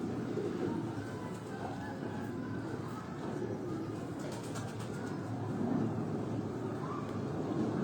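A pigeon, a banded or Kabuli breed, coos softly outdoors in the morning against a steady broadband wash of wind and ambient noise, with no talking.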